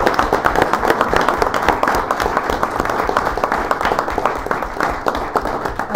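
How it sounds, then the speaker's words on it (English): Audience at a city council meeting applauding Tim for receiving a purchaser of the year award, loud sustained clapping from a crowded room with dense overlapping claps throughout. "Please join me in giving Tim a round of applause"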